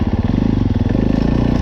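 Dirt bike engine revving hard while riding, from a comparison of 450cc machines such as the YZ450F and Husaberg FX450, a loud close throbbing roar that stays steady throughout with no speech.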